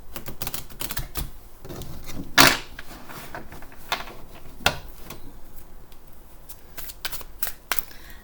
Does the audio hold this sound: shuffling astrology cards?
yes